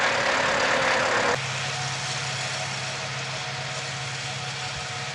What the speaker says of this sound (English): I think we might have a ride in the tractor.